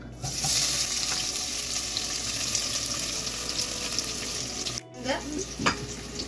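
Steady, dense sizzling of chopped onions frying in a hot pan for chicken biryani, continuous and fairly loud, with a brief break and a few clinks near the end.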